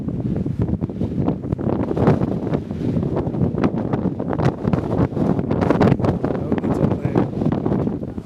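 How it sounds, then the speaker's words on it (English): Cold wind blows across the Pebble Beach golf course by the coast, buffeting the microphone in a loud, continuous gusty roar that rises and falls throughout. "You can hear the wind."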